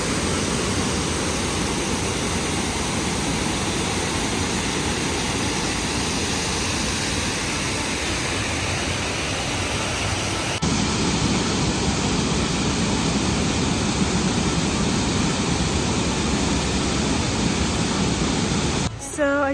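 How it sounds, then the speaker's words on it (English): Turkey Creek Falls at Hawks Nest State Park, West Virginia, roars with a steady, close-up rush of falling water. The sound stays dense and unchanging throughout, with no other clear sounds on top of it. "I was able to get right down to the falls."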